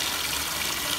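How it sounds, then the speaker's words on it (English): Water pours steadily from a tub faucet into a jetted bathtub, a continuous close hiss and splash with no pauses and no voices. "let me get my water turned on and we'll get started"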